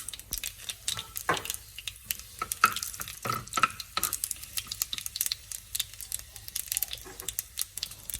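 Dried red chilies tossed into hot oil for moru curry, a Kerala curd curry, crackle and spatter in sharp irregular bursts close up, with light stirring clatter between them and no talk.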